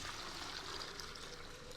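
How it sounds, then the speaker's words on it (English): Homemade broth pours off into another vessel in a soft, continuous splashing stream, close and fairly quiet, with no talking. "time to pour it off."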